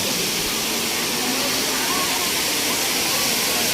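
Waterfall in Antipolo, Rizal, crowded on a Sunday, a loud steady broadband rush of falling water filling the whole clip without pause.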